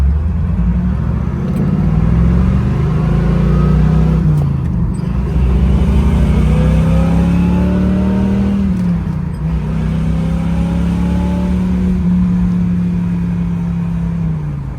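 A 1967 Chevrolet Camaro convertible engine accelerates steadily, rising in pitch and dropping at each gear change, a loud close rumble that continues for the whole stretch.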